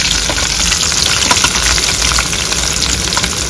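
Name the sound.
green chilies and onions frying in hot oil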